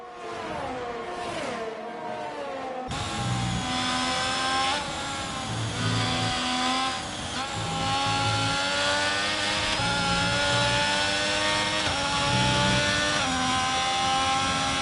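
A Ferrari race car in a racing game screams at high revs, its engine note climbing and dropping sharply through repeated upshifts and downshifts, loud and continuous with no voices.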